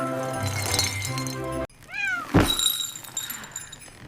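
A cartoon cat gives a rising, wavering meow during a snowy blizzard delivery scene, loud and close, right after a busy stretch of music and effects cuts off abruptly, with a thump under the meow.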